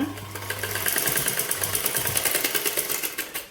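A sewing machine stitches piping onto a blouse, a loud, steady, fast mechanical whir and clatter close by, running continuously throughout.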